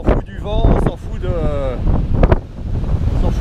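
Wind gusting on a summer kayak expedition in Greenland, heavy rumbling buffets against the microphone, loud and close, with a person talking over it for much of the stretch.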